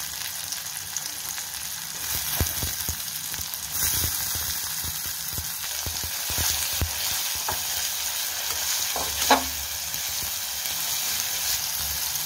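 Onions, green chilli and tomato fry in a pan for a Kerala-style fish dish. Steady, fairly close sizzling continues throughout, with occasional stirring scrapes and no talking.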